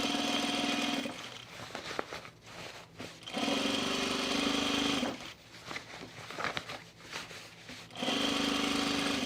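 A sewing machine stitches chunky jacket fabric in bursts, three loud steady runs of fast mechanical whirring separated by quieter pauses of handling, with no talking.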